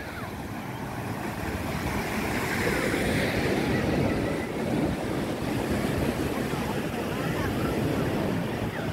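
Strong wind blows at a beach where a kite is being flown, a loud continuous rushing buffet with heavy microphone rumble and no clear voices.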